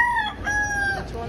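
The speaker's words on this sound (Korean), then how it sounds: "닭이 있어." A chicken crows at a Phuong Trang bus station in Vung Tau, Vietnam, giving a loud, close, drawn-out call of rising and falling tones that lasts about a second.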